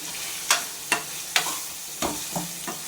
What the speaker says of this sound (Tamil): அது கூட போட்டு வதக்கிக்கலாம்